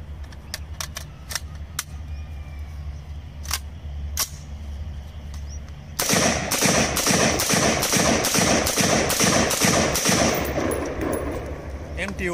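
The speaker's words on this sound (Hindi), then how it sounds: "इसके ऊपर हम टेस्ट फायर करते हैं, चेक कर लें इंशाल्लाह।" An M4 carbine is test-fired with single shots. Quiet handling clicks come first, then a loud, close string of sharp reports in quick succession.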